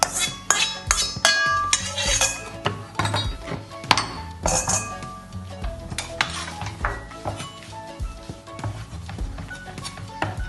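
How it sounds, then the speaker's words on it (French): Knife or utensil clinking and tapping against a dish while finely chopping hard-boiled egg yolks for tuna-stuffed mimosa eggs, a steady run of close, sharp metallic clicks and knocks with no talk. "on va les hacher finement."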